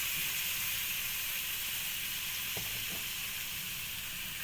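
Salt, cumin, chili flakes and black pepper frying in a pan for chicken pasta, a steady loud hiss of sizzling oil that runs unbroken throughout, with a couple of soft knocks midway.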